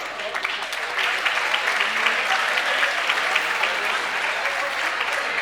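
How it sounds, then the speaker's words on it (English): An audience at a polo hall of fame induction ceremony breaks into sustained applause, dense clapping filling the room for several seconds at moderate volume. "So I'd like to give a round of applause to everyone who's here"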